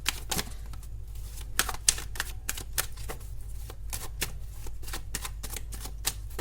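A deck of tarot cards is shuffled by hand, producing a rapid, steady run of crisp little clicks and flutters, close and fairly quiet, with no talking over it.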